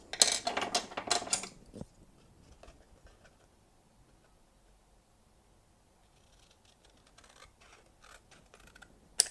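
Scissors making diagonal cuts in card for a handmade Christmas card, a burst of close crisp snips at the start, then near quiet with scattered small clicks and one last snip at the end.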